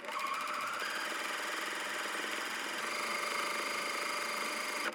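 A sewing machine runs steadily as it stitches bias tape onto a jacket lining, a continuous even whir with rapid needle ticking, close and moderate in volume, with no talking.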